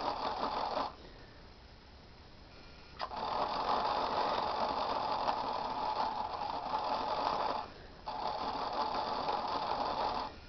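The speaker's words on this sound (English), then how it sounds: "the motor's going now" A hand-cranked Van de Graaff generator's motor runs with a steady whirring drone, pausing briefly twice before resuming at an even, close level.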